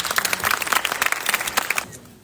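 An audience applauds at a university sports department academic festival, welcoming freshmen presenters: dense, steady clapping from a crowd that carries for about two seconds, then quickly fades to quiet.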